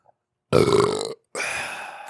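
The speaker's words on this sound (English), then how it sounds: "Besides poisoning people's eardrums with burps." A man lets out a loud, close burp in a podcast studio, a deep rasping belch of about half a second followed after a short pause by a second, breathier and slightly weaker burst.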